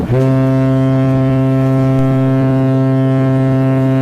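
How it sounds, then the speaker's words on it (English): A single prolonged, deep ship horn blast, loud and steady for several seconds with rich low harmonics and no talking. "there's a sound signal. A prolonged blast from other vessel."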